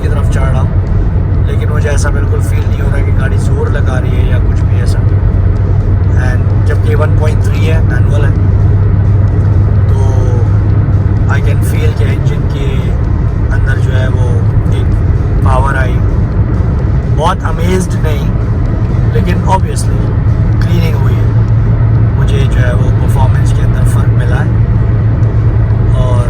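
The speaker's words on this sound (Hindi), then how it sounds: "हालांकि मेरी गाड़ी चढ़ाई पर है," Car engine hums steadily while the vehicle climbs an uphill road, a loud continuous low rumble with traffic noise around it for the whole stretch.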